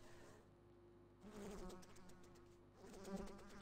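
Flies buzz in Corpse Party: Book of Shadows, a close droning hum that swells louder twice as if circling near the ear, faint in between, with no voices.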